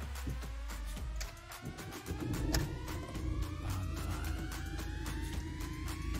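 The engine of a 2019 Fiat Egea Euro 6 car catches with a short rough burst, then settles into a steady idle with a slowly rising whine, heard close up with no talk.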